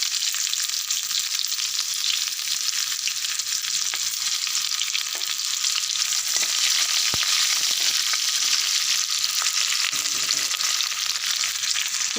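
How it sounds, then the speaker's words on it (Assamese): Whole cumin seeds and chopped onion fry loudly in a hot pan, a dense, continuous crackling sizzle close up with occasional stirring scrapes and no talk. "এয়া গোটা জিৰা দিছোঁ আৰু পিঁয়াজ কাটি থৈছিলোঁ এয়া দি দিছোঁ"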